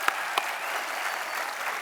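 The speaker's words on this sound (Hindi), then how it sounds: "एक बार फिर से तालियां बनती हैं." A studio audience at a comedy show applauds in a brief burst, dense clapping heard alone at moderate loudness.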